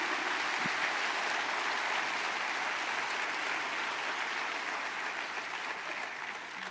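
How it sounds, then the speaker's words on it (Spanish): Sustained applause fills a church, an even wash of many hands clapping at a steady level that tapers slightly toward the end. "Dale un fuerte aplauso al Señor Jesús."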